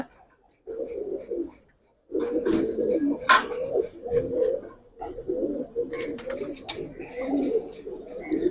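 Giribaz pigeons, a Bengali flying breed, coo in soft low bursts, several birds overlapping in a steady murmur with occasional faint chirps, close by.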